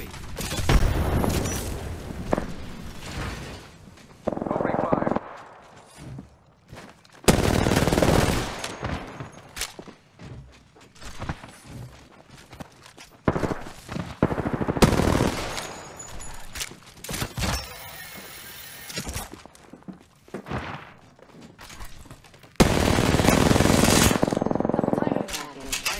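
Video game firefight with bursts of rapid automatic gunfire and single shots coming in loud clusters separated by quieter gaps, some booming impacts, and voices calling out during the fighting.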